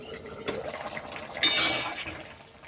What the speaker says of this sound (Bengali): এই পরিমাণে জল দেব